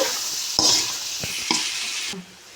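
Chicken masala and yogurt being stirred in a pot, with a steady sizzling hiss and several distinct scraping knocks of the spoon against the pot before the sizzle drops away.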